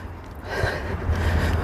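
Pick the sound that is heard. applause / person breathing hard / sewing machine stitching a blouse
person breathing hard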